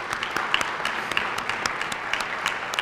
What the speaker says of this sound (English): So let's give all those guys a round of applause